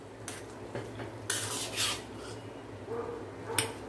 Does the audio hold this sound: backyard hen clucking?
no